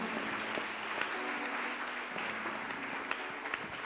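A church congregation claps together during a sermon, a sustained, fairly close wash of applause with small peaks of individual claps that never fades within the moment.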